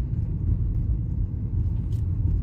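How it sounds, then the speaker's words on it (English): A 1997–2000 Honda Civic driving on the road after a knock sensor replacement, with a steady low engine and road rumble heard from inside the car, smooth and continuous with no voices. "Car is riding smooth. It's riding good."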